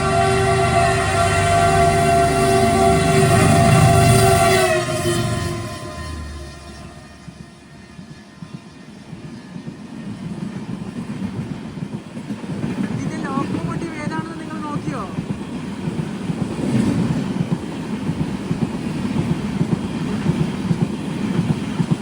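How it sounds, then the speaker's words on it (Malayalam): The Kolkata–Sairang tri-weekly express runs through light rain in Mizoram, opening with loud sustained horn-like tones, then a heavy rumble and rhythmic wheel clatter that swells as the train passes close by. "ട്രെയിൻ കടന്നു വരികയാണ്."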